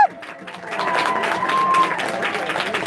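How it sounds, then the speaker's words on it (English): Arena crowd applauding and cheering for two fighters after a Poland versus Canada bout at a combat tournament, a broad sustained wash of clapping and voices at moderate distance, with an announcer speaking over it. "ladies and gentlemen, let's give both our warriors a big cheer"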